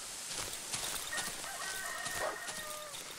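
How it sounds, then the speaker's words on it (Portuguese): A rooster crows in the survival horror game Darkwood, a faint, distant cock-a-doodle-doo drawn out over a second or so against a quiet, noisy background. "Eu vi um galo cantar."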